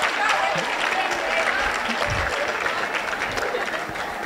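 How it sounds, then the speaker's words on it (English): Parents and guests at a middle school moving-up ceremony give sustained applause, a steady wash of clapping with scattered cheers and voices underneath, easing slightly by the end. "Let's give a round of applause to Miss Manny for putting that together one more time."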